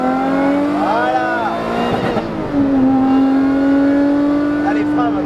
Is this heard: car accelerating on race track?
yes